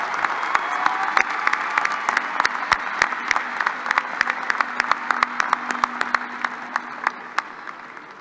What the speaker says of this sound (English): Please join me in applauding the candidates from the College of Natural Resources and Environment.